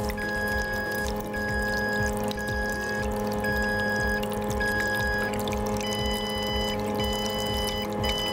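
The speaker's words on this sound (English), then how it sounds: "Even though the running water is covering the keypad, the system shows no false triggers" Faucet water pours steadily onto a capacitive touch keypad, a continuous even splashing rush lasting several seconds, while faint electronic tones beep at regular intervals in the background.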